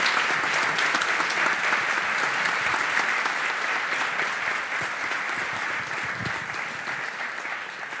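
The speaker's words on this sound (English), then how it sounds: "Let's give an applause." Sustained audience applause welcoming a guest lecturer at a C. S. Lewis talk, a large crowd clapping dense and steady throughout, fading slightly toward the end.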